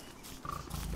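A short, low pig grunt from Don't Starve Together, a single close snort that stands alone without voices.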